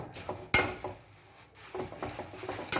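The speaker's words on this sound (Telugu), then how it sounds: "దీన్ని లో ఫ్లేమ్లో పెట్టుకొని దీన్ని ఫస్ట్ ఒక 10 to 15 minutes టాస్ చేసుకోవాలి" Dry flattened rice (poha) tossed in a pan over a low flame, giving soft scraping and rustling with a few sharp clinks of utensil against the pan, close and fairly quiet, with no talking.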